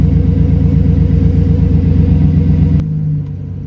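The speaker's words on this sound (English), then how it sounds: "as it's sitting here running for this first 3 minutes, you can hear the idle moving back and forth a little bit" A GM truck engine (Silverado/Sierra/Tahoe class) idles loudly and steadily just after a throttle position sensor replacement, its rumble wavering slightly up and down before cutting off abruptly near the end.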